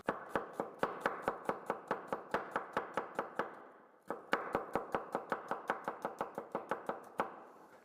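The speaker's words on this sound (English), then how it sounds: "Then cut fine strips for the roulade" Onion being cut into fine strips with a knife for beef rouladen, a brisk run of rapid, regular chops on a board, pausing briefly before a second fast burst.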